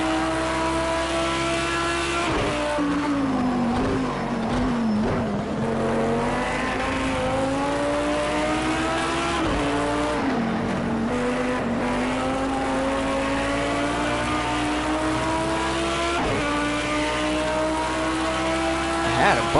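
Race cars in a video game drone through continuous engine notes, revving up and dropping through gear shifts every few seconds. Someone talks over the steady, loud engine sound.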